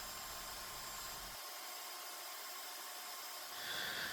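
Jigsaw cutting a curved wooden piece for a phone stand, a steady, close, continuous buzzing cut that holds loud for about four seconds with no talking.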